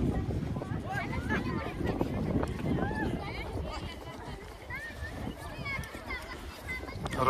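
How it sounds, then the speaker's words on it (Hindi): Strong wind roars steadily through a snowy mountain valley at Solang near Manali in Himachal Pradesh, with continuous gusting rumble buffeting the microphone while people talk over it. "और अभी बहुत तेज हवा चालू हो गई है"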